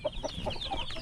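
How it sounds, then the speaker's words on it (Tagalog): Chicks in a cardboard incubator box give a quick series of short, high peeps, about five in a second, heard close up and fairly faint. "Marami-rami na naman ulit tayong sisiyo dito."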